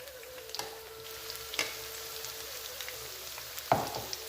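Onion bhaji batter frying in hot oil gives a soft, steady sizzle and bubbling, with a few faint clicks and taps scattered through, quiet and close, no talking.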